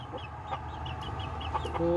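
Chickens cluck in a dirty old chicken coop, a series of short, fairly faint clucks in a quiet enclosed space, with faint background noise and no clear talk.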